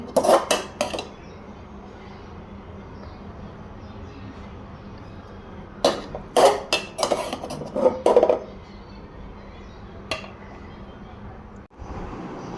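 Rice being served onto plates, with close clattering of dishes and cutlery in short clusters of clinks and scrapes, quieter gaps between them and faint background noise.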